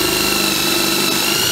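A power drill drives a self-tapping screw into a round pipe underneath a car, a loud, steady, close high-pitched whine that runs through the whole brief moment.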